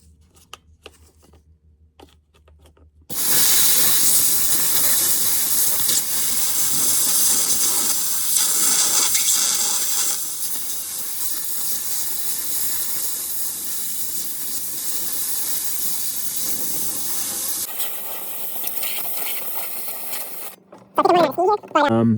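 A Harbor Freight steam cleaner hisses loudly and steadily against a car window while it strips 25-year-old tint, cutting in abruptly and running for about fifteen seconds before shutting off.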